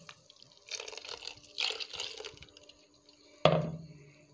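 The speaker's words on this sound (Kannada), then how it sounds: "ನಾನು ಸ್ವಲ್ಪ ನೀರು ಹಾಕ್ತಾ ಇದ್ದೇನೆ" Water is poured into freshly ground batter for a fenugreek saaru in a home kitchen, with soft splashing bursts followed by a sharper splash near the end, all fairly quiet.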